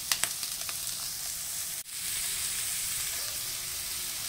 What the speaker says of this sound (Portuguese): Agora vamos deixar aqui refogando um pouquinho e voltamos.